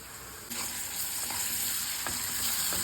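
Ginger garlic paste is stirred into golden-browned onions frying in oil, giving a steady close sizzle with a few soft scraping strokes of the spoon and no talk.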